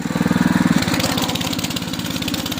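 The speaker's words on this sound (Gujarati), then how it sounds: "પાછળ ટ્રેક્ટર લઈને આવે કા પપ્પા" A tractor engine runs on a farm during dry-coconut harvesting, a steady close diesel chug with fast, even pulsing that stays loud and unbroken throughout.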